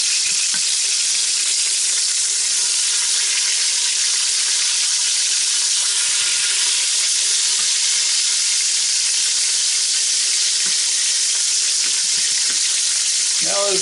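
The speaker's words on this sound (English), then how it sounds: "Now those ends can get seared in there good like that too." Thick filet mignon steaks, stood on their ends, sear in an Instant Pot with a loud, steady sizzle and hiss that continues without a break, with a few faint clicks near the end.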